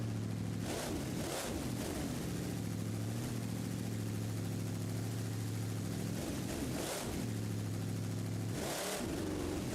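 The Bad News Travel Fast monster truck at a monster truck show in Gilbert, PA, idles with a deep, throbbing rumble. Three or four sharp throttle blips rise above it at intervals, heard from a moderate distance.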